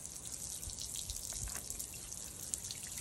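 Water pouring steadily over a bare, uncovered Ryobi power tool battery circuit board, a constant close hiss with bright spattering throughout.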